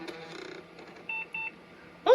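Two short electronic beeps from the speaker of a Compaq Contura 3/25C laptop sound in quick succession amid faint background noise, followed by a brief louder burst at the end.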